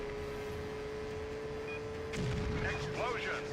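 In the PlayStation 2 stunt-driving game Stuntman, a snowmobile chase scene erupts in a sudden loud explosion midway through, a booming burst rising over a steady engine drone and fading into rumble.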